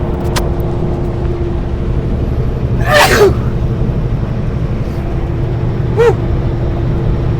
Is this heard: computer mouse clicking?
no